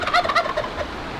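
A wild turkey near a desert canyon trail lets out a short, close gobble, several quick rattling notes that trail off into quiet.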